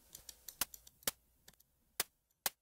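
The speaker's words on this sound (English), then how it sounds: "So you can see it creates that clicking noise." Sharp clicks made by a transient shaper effect in music production: a sparse, uneven run of crisp ticks of varying loudness, close and dry, with no other sound.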